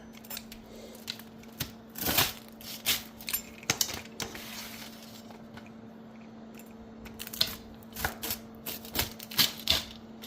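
A crisp-bottomed pizza crust is cut with a series of sharp, crunchy crackles and clicks, in uneven bursts and close by, with quiet stretches between cuts.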